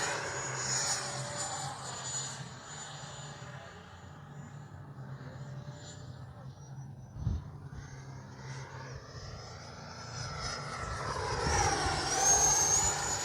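FMS Integral 80mm RC jet flying, an electric ducted-fan whine sweeping past with Doppler-like rises and falls, fading then swelling louder as it nears again, outdoors with a brief thump midway.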